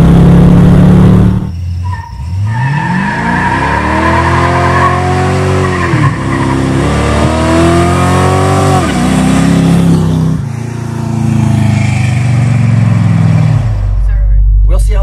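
A 1980 Dodge with a 318 V8, a 727 automatic transmission and a new torque converter launches hard with loud, close tire squeal and skidding as the engine revs rise and shift, and someone talks over it.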